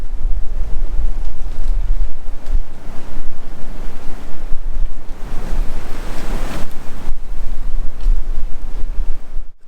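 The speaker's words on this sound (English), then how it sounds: "It's really catching the top of these trees, the wind is, and when it catches your face it's bitterly cold." Strong wind roars through woodland treetops in a steady, loud rush that swells and eases in gusts, with heavy buffeting on the microphone and nobody speaking.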